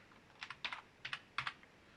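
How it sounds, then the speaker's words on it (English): Down arrow and other keys tapped on a computer keyboard give a handful of crisp, close clicks in small clusters against near silence. "Let's hit down on our keyboard and call this middle mid."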